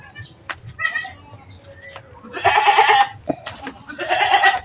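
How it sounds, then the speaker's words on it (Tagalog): Goat in its pen bleating loudly in two long, wavering calls, close to the microphone, with shorter animal cries and rustling around them. "Yan ang kambing ng anak ng usa."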